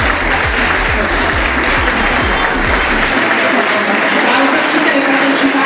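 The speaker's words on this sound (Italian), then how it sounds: "un grande applauso alle" A pageant audience at the Miss Graticolato Romano event in Borgoricco, Padova, applauds the two finalists with loud, sustained clapping and crowd noise. A voice speaks over the start of the applause.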